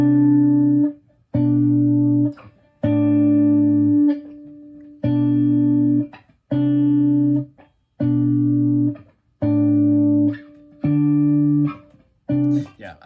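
Guitar playing the second pre-chorus of a song, reusing the chorus chord progression with bass notes: a clear, close sequence of sustained strummed chords in an even rhythm, with no talking.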